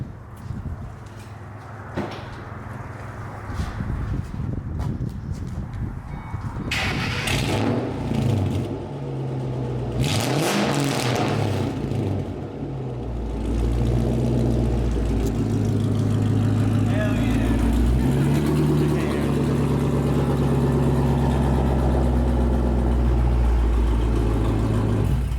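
Ford Mustang GT with hot rod cams starting up after some door and handling clatter, then settling into a loud, rumbling idle with revs, while people talk nearby.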